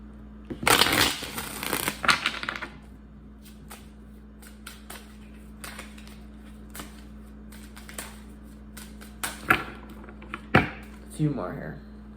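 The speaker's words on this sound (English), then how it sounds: "let's do four major shuffles, overall outcome for Pisces and this person." Tarot cards are shuffled in quick riffling bursts, one near the start and more toward the end, with quiet gaps and soft handling noises between.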